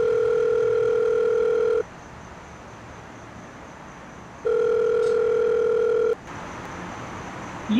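Telephone ringback tone on a call that goes unanswered before voicemail picks up, two long buzzing rings separated by a silent gap, clear and close, then a click as the line connects.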